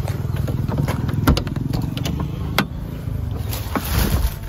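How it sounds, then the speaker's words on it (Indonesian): A 1981 Honda Accord Elegant Saloon engine runs at a steady, rumbling idle, its low throb broken by a few sharp clattering knocks, close and fairly loud throughout. "Oke, kita coba nyalakan mesinnya."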